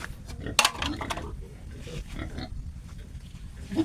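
A pregnant sow at a backyard piggery eats from a trough, grunting and snuffling up close, with a clatter of feeding and faint voices in the background.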